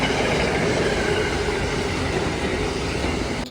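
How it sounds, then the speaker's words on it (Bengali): A train pulls into a station in Germany with a loud, continuous rumble and wheel noise close by, holding steady before cutting off at the end, with no talking. "চলুন, আমাদের ট্রেন চলে এসেছে অনেকক্ষণ ওয়েট করার পর"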